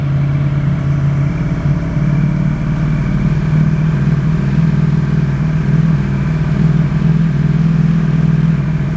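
A 2024 Ducati Streetfighter V4 motorcycle fitted with a full titanium Akrapovic exhaust runs close by, holding a steady, deep, throbbing engine note at fairly constant speed with no voices.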